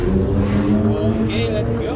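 A spaceship's engines throttle up in the space game Elite: Dangerous, a loud sustained engine roar with layered tonal hum, with a voice talking over it.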